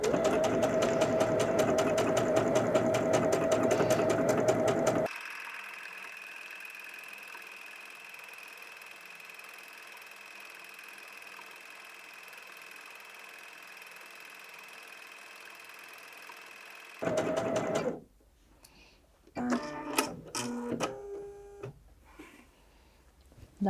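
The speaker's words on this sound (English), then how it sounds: "it's going to sew the whole word" A Bernette b77 sewing machine stitches out a word in a loud, rapid mechanical whir for several seconds, then falls quiet except for a faint hum before a brief final burst and some handling noise.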